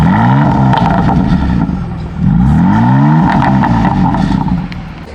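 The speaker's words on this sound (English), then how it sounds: "This is the full stock system, the competition muffler with the stock mid pipe, and we are currently in Sport Plus." Revving car engine on a full stock exhaust with competition muffler and stock mid pipe in Sport Plus mode, loud and close, with two rising throttle blips and a steady rumble between them.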